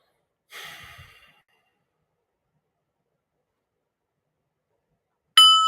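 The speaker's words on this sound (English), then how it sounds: "let's get a little breath" A single deep breath is drawn and released in a quiet setting, a soft breathy rush lasting under a second, followed by long silence and then a bright bell-like ding at the end.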